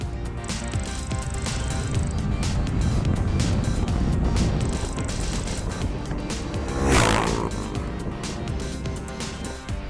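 A 2018 Husqvarna Vitpilen 701 motorcycle riding along with a steady, continuous engine drone mixed with wind rush, swelling briefly as it accelerates partway through, heard close and alone.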